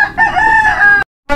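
A rooster crows once by a seaside spot in Lucena, a loud, close, strained call lasting about a second, followed by a short silence before a fresh sound starts.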